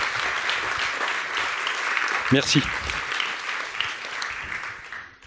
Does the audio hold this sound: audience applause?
yes